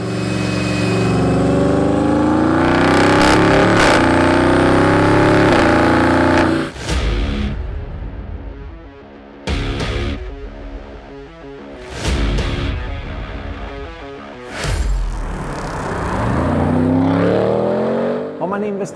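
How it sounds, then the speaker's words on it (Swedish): An Audi RS6 C8 on a dyno roars through a long, loud run and then fires off several sharp revs separated by brief drops. Talking can be heard partway through. "Har man investerat i den nya Audi RS6 C8 så kan man slås av att bilen låter lite tystare än generationerna innan."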